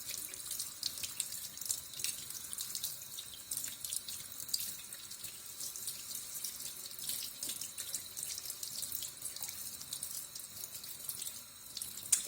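Water runs steadily from a tap as hands are rinsed under it during handwashing, a soft continuous splashing hiss at low volume with no speech.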